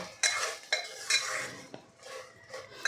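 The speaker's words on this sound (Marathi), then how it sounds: "आता हे सगळं आपण मिक्स करून घेऊ." A spoon stirs jaggery lapsi with fried dry fruits and cardamom in a pan, giving a few distinct metal scrapes and clinks over a faint sizzle, close and without talk.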